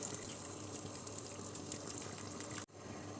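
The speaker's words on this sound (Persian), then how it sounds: "آب جوش رو هم اضافه میکنیم." Boiling water poured into a pot of tripe with a beef shank, a steady close gushing pour that stops abruptly near the end.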